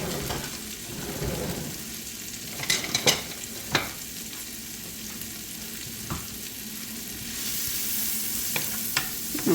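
Bell pepper and other vegetables sauté in a pan with a soft steady sizzle, broken by several sharp clinks and scrapes of stirring utensils.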